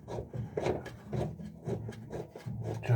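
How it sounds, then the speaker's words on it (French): A screw being driven into wood, heard as a close, rhythmic grinding and rubbing with repeated turning strokes at an even pace, no talk. "C'est moi en train de visser une vis."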